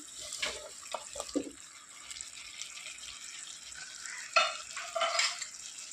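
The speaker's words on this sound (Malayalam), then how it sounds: "അപ്പോൾ ചാമ്പയ്ക്ക മുഴുവനായിട്ട് ഞാൻ ചേർത്ത് കൊടുത്തിട്ടുണ്ട്." Whole rose apples stirred into simmering pickle gravy in a pan, with a steady low sizzle and a few louder scraping stirs and splashes near the end, no voices.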